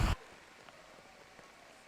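Heavy rain pouring down on an outdoor women's soccer match in Providence, a steady, soft hiss that follows a brief loud thump at the very start.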